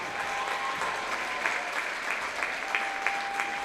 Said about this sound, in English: Let's have a big round of applause for these seniors and their parents